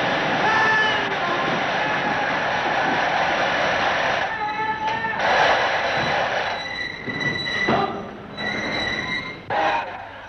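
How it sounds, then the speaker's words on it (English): A special steam-era train from London carrying football supporters pulls in during 1952, with rumbling wheels, sharp squeals of metal on rail and clanking bursts, fairly loud and close. "It began with an early morning invasion by a special train from London"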